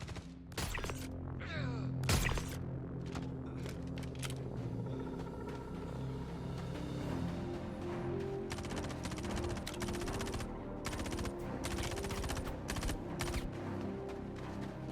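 Scattered gunfire in the Star Citizen game: sharp bursts and single shots crack out at irregular intervals over a steady low rumble, some close and loud, others more distant, with no talking.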